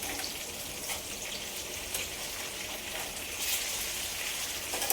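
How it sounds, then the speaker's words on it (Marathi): Chicken tikka sizzles in a pan on its second side, a close, steady, rain-like crackle of hot oil that carries on evenly throughout without any speech. "आपल्याला हे छान कुक करायचे, फ्राय करायचे मीन्स व्यवस्थित"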